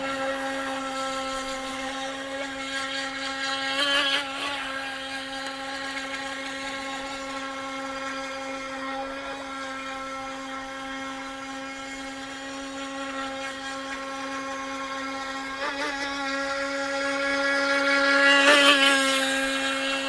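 A small, inexpensive Intey H102 high-speed RC boat motor whines steadily on the water, a sustained high-pitched buzz that swells a little as the throttle rises and briefly peaks near the end.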